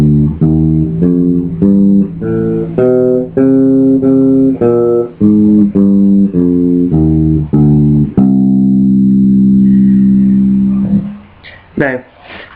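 Bass guitar plays the C melodic minor scale one note at a time at a steady, even pace, then holds a final sustained note, followed by a few faint thumps at the end.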